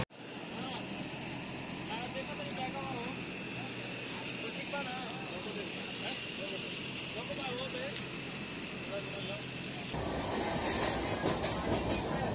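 Inside a moving sleeper-class passenger train near Howrah, a constant rumble of wheels on rails with rhythmic clatter and rattling, plus background voices, growing louder and rougher toward the end.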